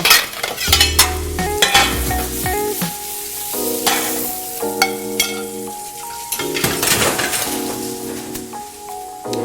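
Cajun shrimp cooking in a hot pan give off a steady close sizzle, with stirring scrapes and occasional clinks of utensil against metal running through the whole stretch.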